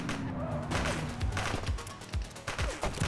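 A suspect opens fire in the police game The Precinct: several sharp gunshots crack in rapid, uneven succession over busy in-game background noise.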